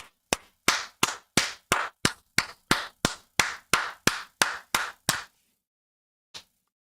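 Hand claps close into a streamer's microphone, about fourteen sharp even claps in a steady rhythm, then a pause and one final lone clap.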